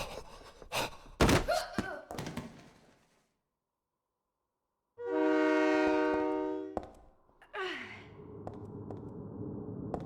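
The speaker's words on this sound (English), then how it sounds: "the train never actually gets here. You just hear it off in the distance." A distant train in the video game Silent Hill 3: a sustained, loud horn-like tonal blast lasting about two seconds, followed by a falling rumble, after earlier thumps and clatter and a stretch of silence.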